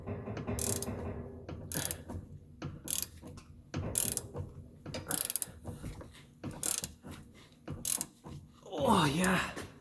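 A long ratchet clicks in bursts while tightening a front stabilizer link on a 2006 Volkswagen Jetta TDI, the close, sharp pawl ticks falling in uneven rhythm with a brief creak near the end.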